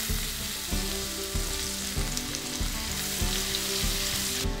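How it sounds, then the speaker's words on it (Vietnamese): Minced garlic fries in a pan of chicken fat with a loud, steady sizzle and crackle, broken by regular stirring scrapes. "Bây giờ mình sẽ cho tỏi băm vào."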